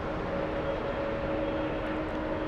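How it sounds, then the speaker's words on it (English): Boeing 787 Dreamliner at Los Angeles International Airport, a steady broadband engine roar with a low hum, holding at an even level throughout without any voices. "Come on, Dreamliner."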